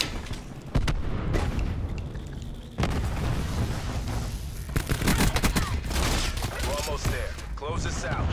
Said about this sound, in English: Sentry firing.